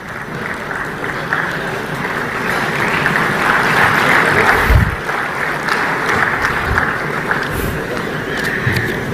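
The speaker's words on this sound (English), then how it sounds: "A big round of applause, ladies and gentlemen, for our keynote speaker." Sustained applause from a large crowd for a keynote speaker at India's first National Space Day celebration, steady and loud throughout, with a few louder claps and thumps rising out of the wash of clapping.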